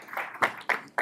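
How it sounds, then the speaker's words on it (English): Brief audience applause at a panel discussion on U.S.-Africa relations: a short, moderately close burst of clapping with a few rising pulses and no talk over it. "Round of applause, please."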